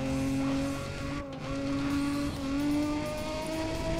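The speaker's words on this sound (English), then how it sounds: "now we hit the brakes because we do not want to fly" A race car in Need for Speed ProStreet brakes hard on the Autobahnring: the loud engine drone winds down while the tires squeal and skid, close and continuous for a few seconds.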